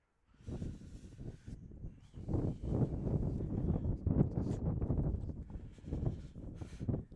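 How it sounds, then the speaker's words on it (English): Gusty wind buffets an outdoor microphone at a varsity baseball game, making low, rumbling bursts that swell and fade irregularly at a fairly faint level, with no talking. "And once again, we got some wind gusts."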